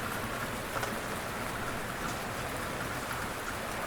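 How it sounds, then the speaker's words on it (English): Steady rain falls on a surface as a dense, even hiss of countless drops, soft and continuous without pause, unbroken by voices or other sounds. "The rain fills in the silence, drop by drop, so the thinking doesn't feel like work."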